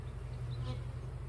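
Honey bees droning in an opened hive during a split to prevent swarming, a steady low hum with a faint higher buzz passing close by.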